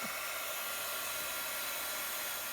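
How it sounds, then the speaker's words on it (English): A heat gun or blow dryer drying acrylic paint and resin on a craft project gives a steady, even broadband whoosh of blowing air that holds unchanged throughout, close and continuous, with no talking. "you can use your heat gun or blow dryer to help things along"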